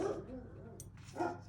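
A pet dog barks in a home setting, a couple of short nearby yips and barks rising over quiet room sound, with a little soft voice mixed in.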